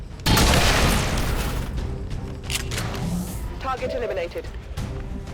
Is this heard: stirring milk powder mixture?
no